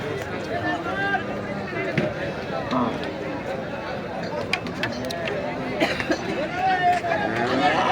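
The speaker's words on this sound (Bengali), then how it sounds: "গরুর হাট।" A bustling roadside cattle market at Nandail Chourasta, where bulls are sold for Eid sacrifice, fills the air with crowd chatter and milling noise, with nearby voices talking over the babble.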